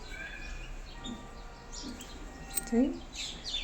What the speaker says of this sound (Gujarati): પોપટ ને બગલા ને ચકલા ને કાબર ને કોયલ ને કબૂતરા ને હજી કેટલા તો ઉપર બેઠા છે